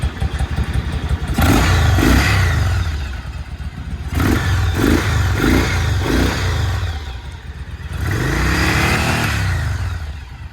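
A Yamaha V-Star 1100 Custom motorcycle fitted with Cobra slip-on mufflers and an open air filter revs hard three times, each loud close blip rising and falling over a deep rumbling idle.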